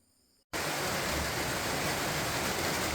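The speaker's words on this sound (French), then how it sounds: "grosse pluie d'Amazonie" Heavy rain pours down at night in the Peruvian Amazon, a dense, steady roar filling everything after a brief near-silent opening moment.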